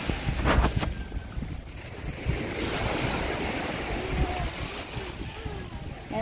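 Rough, wind-buffeted water noise with splashing surf and a steady rumbling wash, loud and continuous, as a boat moves across choppy seaside water in typhoon winds.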